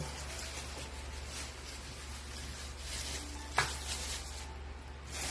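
Steady sizzling of food frying in a pan, a continuous crackling hiss with one sharp clink partway through.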